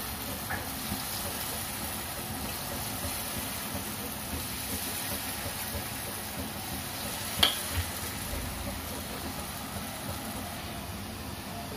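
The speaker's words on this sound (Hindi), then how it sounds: "बॉल्स को हम हिलाते हुए अच्छे से फ्राई कर लेंगे ब्राउन होने तक" Malai kofta balls frying in hot oil, a soft steady sizzle held low and constant, with one brief clink partway through.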